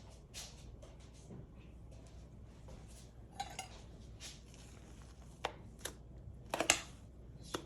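Whipped cream is stirred into rice pudding, with faint scraping and a scattering of light clinks and knocks of a utensil against the bowl. The clinks are sharper toward the end.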